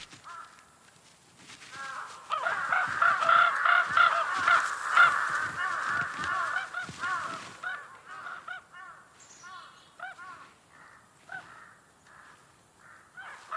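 Wild crows in Russia caw repeatedly, a burst of loud, overlapping harsh calls in the middle followed by sparser, fainter caws spaced out toward the end.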